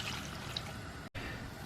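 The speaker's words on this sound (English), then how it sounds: "To the onions, I added 1 cup of water, and then we've got 1 cup of white vinegar" Water and white vinegar poured onto sliced onions in a kitchen for a quick stovetop pickle: a steady close trickle and splash of liquid running for the whole moment, briefly cut off near the end before resuming.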